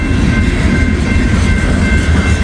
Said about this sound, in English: that's a big coal train right here